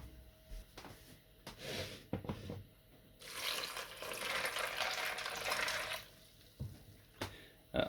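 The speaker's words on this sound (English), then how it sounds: "to which I will be adding 700 mils of water" Water is poured into a large bowl holding two cups of hardwood pellets, a steady splashing rush lasting several seconds, framed by a few short knocks and clatters before and after.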